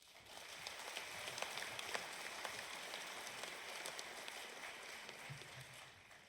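At an annual energy co-op meeting held in a hall, the audience gives a sustained round of applause: dense, even clapping that holds for several seconds at a soft, distant level.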